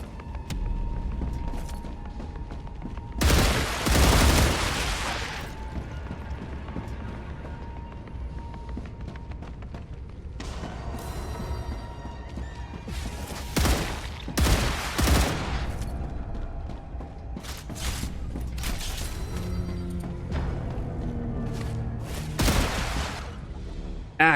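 Sustained video game gunfire with bursts of automatic shots and several loud booming volleys over a constant rumbling background, close and heavy throughout.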